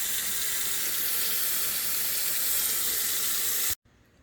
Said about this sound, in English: We'll give them a quick wash and then get them ready for prep to put on the barbecue.